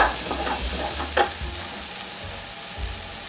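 Foie gras searing in a hot pan after being turned over, giving a close, steady sizzle and crackle with a brief louder spatter of fat partway through.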